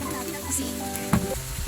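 Pork knuckle sizzling in a pan with tomatoes for monggo, a steady close hiss broken by a sharp scrape or clack of stirring partway through, with some background sound under it.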